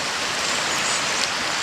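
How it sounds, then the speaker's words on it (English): A creek waterfall running high after heavy rain on a plantation pours in a steady, loud, broadband rush with no pauses, close by and without any voices. "In fact, the waterfall's right on the left-hand side of those two trees."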